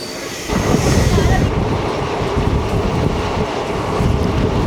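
An Intercity Express hauled by a locomotive rolls into a busy station, a steady loud rumble of wagons and wheels with wind buffeting the microphone throughout.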